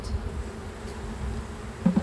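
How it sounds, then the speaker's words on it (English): Honeybees buzz steadily around a beehive nuc, a continuous low drone of many insects close by, with a couple of faint knocks near the end. "There's a lot of bees on this corner."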